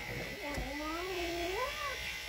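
A pet cat gives one drawn-out, wavering meow while being handled, close and clear, with a low buzzing hum underneath and a person speaking softly around it.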